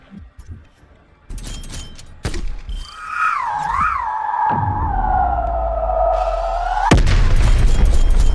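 Spawn tube fired in Black Ops Cold War on the Satellite map: a sharp launch burst, then a rising, wavering whistle that holds steady for several seconds before a loud boom cuts in at the end.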